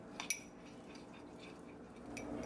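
A spoon clinks softly against a bowl while stirring a cinnamon and ginger face mask, with a couple of faint taps near the start and quiet scraping after.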